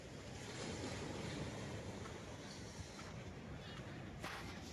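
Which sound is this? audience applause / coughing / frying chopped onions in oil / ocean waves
ocean waves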